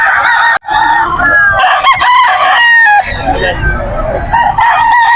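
Roosters crow loudly and cluck in a pre-dawn open-air chicken market in Bocaue, Bulacan, several overlapping close crows with harmonic cries and crowd noise beneath.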